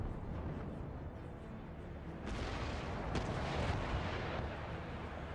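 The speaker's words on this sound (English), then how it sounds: "Let's try to keep using the chain shot with him." Warship cannons fire chain shot during a naval battle in Empire Total War with Darthmod, giving a continuous low rumble of booming broadsides and one sharper crack partway through, with no voices.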